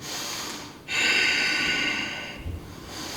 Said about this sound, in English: Remember to breathe.